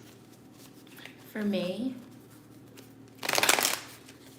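Tarot cards being shuffled, two distinct bursts of riffling and slapping cards, the second louder and crisper, close to the mic, with someone speaking briefly between them.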